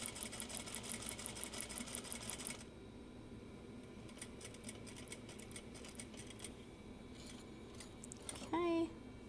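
Sewing machine fitted with a new needle runs in a rapid stitching burst for a couple of seconds, then quieter handling clicks follow, with a brief tonal squeak near the end.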